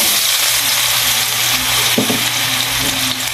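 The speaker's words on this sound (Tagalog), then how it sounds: "piniprito ko muna tong mga patatas." Potatoes frying in Golden Fiesta cooking oil, a loud, dense close sizzle with a brief scrape of a utensil partway through, no voices.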